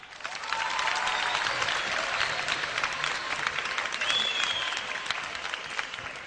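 Studio audience applauds a band at a live television music performance, dense sustained clapping with some crowd noise that swells quickly and holds steady throughout.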